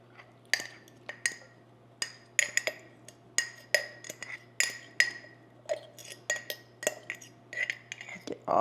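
Canned, well-seasoned refried beans scraped into a baking dish with cooked meat for a street taco bake and mixed in, giving a steady run of close metal utensil clinks and taps against the dish with a faint low hum underneath.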